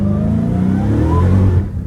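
Dodge Challenger Hellcat Redeye accelerating hard on a wet, rainy road, its supercharged engine roaring loud and close with a steady rising drone that drops off sharply near the end.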